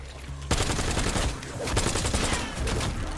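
Rapid sustained machine gun fire from an MG in the Black Ops 7 Zombies beta, a loud continuous burst of shots right after a brief quiet start, running to the end with no talk.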